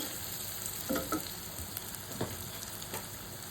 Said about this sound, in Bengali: আমি এখানে মশলাপাতি যা যা দিয়েছি এখানে দিয়েছি একটু রসুন পেস্ট আর হলুদ মরিচ আর জিরার গুঁড়া তো মাছটা ভালোভাবে কষিয়ে নিলাম